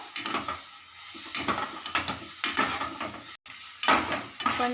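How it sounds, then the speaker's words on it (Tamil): Sliced onions sautéing with salt in a pan, a steady sizzle broken by the scrape and clink of a spoon stirring against the metal, with one brief dropout near the end. "கொஞ்சம் உப்பு போட்டு வெங்காயத்தை வதக்கிக்கலாம்"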